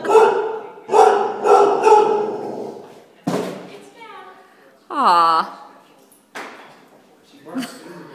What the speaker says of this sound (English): The dog that never barks, barks at boxes.